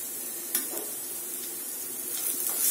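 Pithale ingredients with turmeric and chilli sautéing in a pan, a soft steady sizzle with a couple of light utensil taps, faint and close, no voices.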